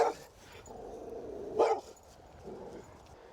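A wild, fearful dog gives low throaty growls with a brief louder vocal burst near the middle, fairly close and with no talk over it.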